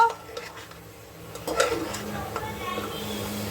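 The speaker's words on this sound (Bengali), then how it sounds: "এই এখন আমি ভালো করে কষছি চিকেনটাকে।" Chicken coated in spices being stirred and fried in a pot, with faint scraping and clinking of a utensil against metal, a brief louder rattle midway, and a low sizzle underneath.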